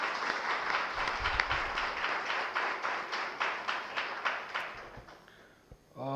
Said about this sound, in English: a big round of applause for the graduating students 2022